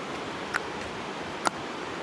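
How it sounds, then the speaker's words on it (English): Steady broadband rush of running water from a mountain stream on a Zugspitze hike, continuous and even, with a couple of brief faint knocks over it. "I don't really get tired at the sound of running water."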